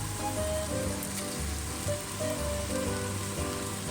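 Mushrooms fry in a hot pan, giving a continuous close sizzle with fine crackling pops and a few faint stirring sounds, no talking over it.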